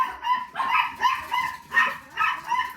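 Several dogs bark in a rhythmic series of yips and barks, about five bursts, fairly close and clear with no talking.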